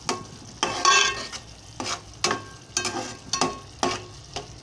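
Prawn curry cooking in a pan, stirred with a utensil in repeated scraping strokes over a soft simmering sizzle, heard close and alone.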